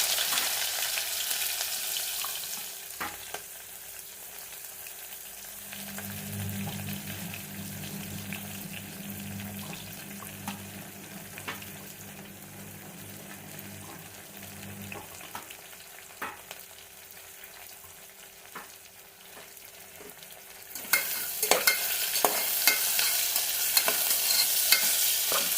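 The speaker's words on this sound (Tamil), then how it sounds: "ஆனியன் நல்லா வதங்கட்டும்." Onions frying in a pan while being stirred for black channa biriyani, a soft sizzle with scraping strokes, a low hum through the middle, and louder clattering stirs near the end, no speech.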